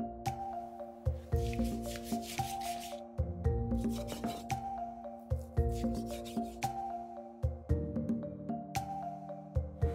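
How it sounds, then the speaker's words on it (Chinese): A knife slices beef brisket cut from the rib section into strips, giving a quick, regular series of soft squishy cuts close up, over steady tonal background music. "现在我们把这个牛腩切成条状。"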